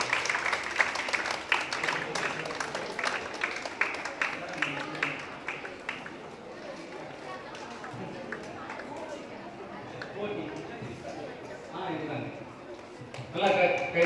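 Applause and clapping from an audience at a Women's Day event in Chennai, a fairly steady patter lasting several seconds, then fading as voices chatter, with a brief renewed burst of clapping near the end.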